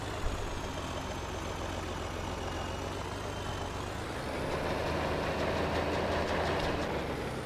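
A tractor engine idling in Farming Simulator 22, a constant loud droning hum with a steady low throb that swells slightly in the second half, with no talk over it.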